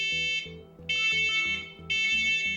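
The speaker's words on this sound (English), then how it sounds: "there are wireless interconnected smoke alarms available" A wireless interconnected home smoke alarm sounds loud and close, giving repeated harsh high-pitched beeping bursts in a steady rhythm with no talk over it.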